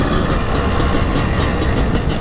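A Maico 700 motorcycle engine roars steadily at close range, a dense, loud mechanical drone with rhythmic pulses repeating through the whole stretch.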